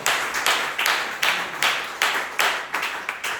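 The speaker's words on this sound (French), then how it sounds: "Applaudissez pour le Seigneur." A church congregation claps together in a steady, even rhythm during a Tuesday worship service, about eight loud claps spaced evenly over a few seconds, with no voices over them.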